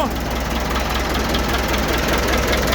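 A car engine idles steadily just after starting, a continuous close low rumble with a faint knocking texture and a constant hum, with no voices over it.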